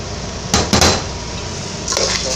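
Rice being stirred and mixed in a pan while sautéed with shrimp for a shrimp pilaf: a few clattering scrapes of a utensil against the pan, close and moderately loud, with a quieter pair near the end.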